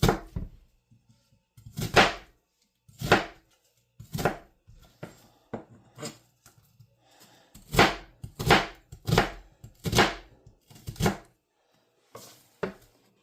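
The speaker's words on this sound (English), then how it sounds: "You're going to want to chop your onion up like this" A knife chops an onion on a cutting board, making crisp, close, irregular thuds that come singly and in quick clusters, with short pauses between bursts.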